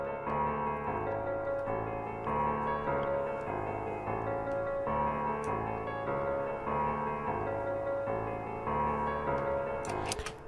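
A Power Grand piano run through EQ so it sounds thin and tinny, playing a looping repeated melodic figure over a steady beat, fairly quiet and continuous.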